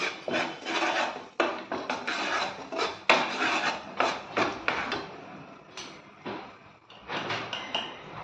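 A spatula scrapes and stirs okra masala with red chilli powder and garam masala in a pan, close and fairly loud, in steady repeated strokes with a few clinks and no talking.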